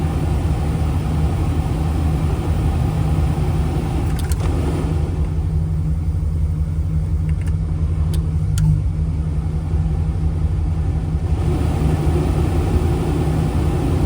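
Steady climate control blower running on high in a 1975 Lincoln Continental, a continuous whooshing rumble with a low engine hum beneath, constant in level throughout with no voices.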